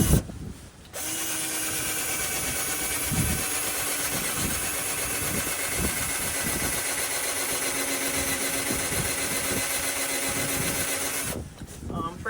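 A cheap dollar-store cordless drill, running on weak batteries, drives a new bit into exhaust work on a truck; its steady whine runs loud and continuous for about ten seconds, starting and stopping abruptly, with occasional thumps.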